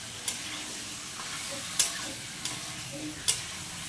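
Curry frying in a pan with a soft continuous sizzle, broken by four sharp scraping clicks of a spoon stirring against the pan at irregular intervals, close by and fairly quiet.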